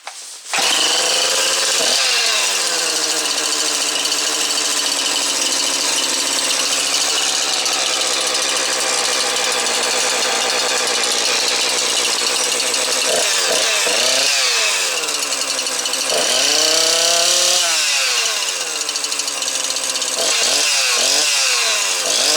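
A new chainsaw runs at a raised high idle, a loud, continuous buzzing drone close by that holds steady for most of the time, with several brief revs and dips near the end.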